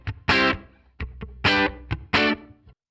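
Electric guitar through a Headrush reverb set to a dark color, three strummed distorted chords separated by short muted picking, each chord ringing briefly before cutting off.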